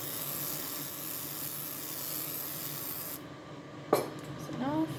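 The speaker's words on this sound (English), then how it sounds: "first I'm going to grease the pan with some olive oil" Olive oil being sprayed to grease a pan, a steady close hiss lasting about three seconds, followed by a sharp clack and some light clattering.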